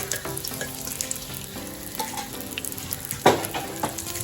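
Oil sizzling in a pan while cooking prawn biriyani, a constant near frying hiss with light stirring scrapes and one louder clatter.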